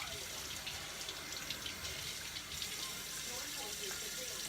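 Hot water runs steadily from a kitchen tap while chicken marsala is being cooked, a constant faint rushing hiss for the whole stretch.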